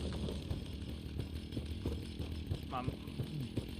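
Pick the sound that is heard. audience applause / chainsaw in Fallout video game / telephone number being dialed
chainsaw in Fallout video game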